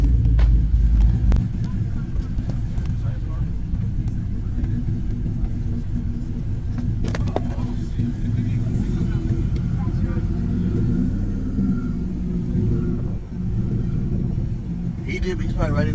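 A truck pulling up sends a continuous low engine rumble through the whole stretch, heard close and steady beneath people talking.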